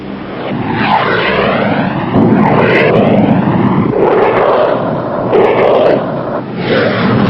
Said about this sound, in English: the ability of a small, extremely maneuverable fighter to enter a target area undetected and safely exit at high speed